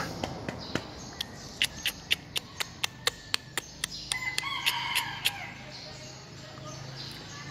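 A series of sharp, evenly spaced bird calls rings out close by, repeating rapidly in a steady rhythm, with a fowl-like quality over a noisy outdoor background.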